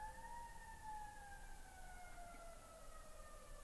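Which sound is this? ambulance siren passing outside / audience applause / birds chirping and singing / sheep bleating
ambulance siren passing outside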